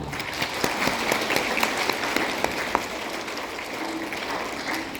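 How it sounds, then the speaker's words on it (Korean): A church congregation at a Korean school graduation Mass in Sydney claps warmly, a dense patter of hands with a few sharper individual claps standing out, steady and fairly close without speech. "박수 한 번 들려주세요."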